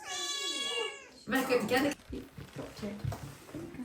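A kitten gives one drawn-out, plaintive meow, then people talk nearby with some rustling.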